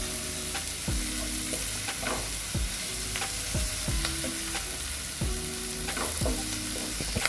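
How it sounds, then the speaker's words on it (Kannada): Curry leaves fry with onions in a pan for a Kannada-style hesar kal curry, giving a steady loud sizzle broken by repeated spoon or spatula scrapes and stirs, with no voices. "ಕರಿಬೇವು ಹಾಕಿ ಮತ್ತೆ ಫ್ರೈ ಮಾಡಿರಿ."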